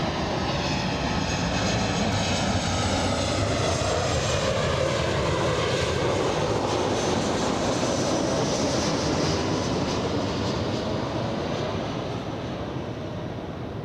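Jet airliner engines at LAX airport, a loud, broad roar that holds steady and close, with a rising-and-falling whine running through it as a plane passes.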